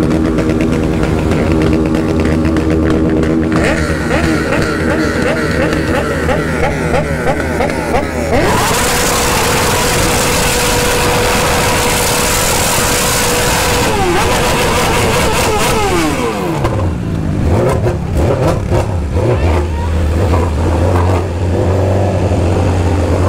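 BMW S1000RR sport motorcycle engine revving hard, a loud, close succession of screaming high-rpm surges and falling revs, sustained howls and a drop to a lower idle near the end.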